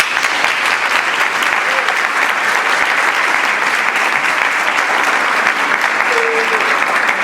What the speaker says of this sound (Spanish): llévate otro aplauso